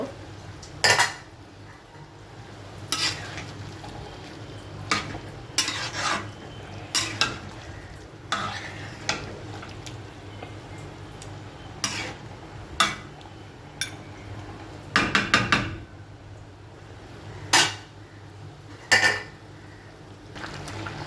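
Boiled small local potatoes tipped into a pot of beef curry and stirred, with sharp spoon knocks and scrapes against the pot at irregular intervals over a soft, steady sizzle, up close and without talk.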